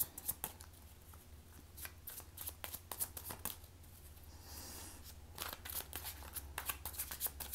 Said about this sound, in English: breathe with me as I shuffle the cards.